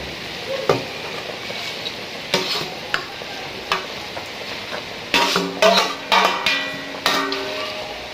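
Fish frying in a pan gives a soft sizzle underneath, broken by sharp clanks and scrapes of a utensil against the pan, several spaced early and a quicker cluster near the end, with no talking.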